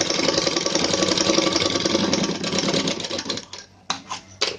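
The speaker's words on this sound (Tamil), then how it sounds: "நான் இப்போ உங்களுக்கு காட்டணுன்றதுக்காக ஒரு 2 ஸ்டிச் மட்டும் போடுறேன்" A sewing machine stitches an armhole with a loud, continuous whirring run for a few seconds, then breaks into short, stop-start bursts of stitching.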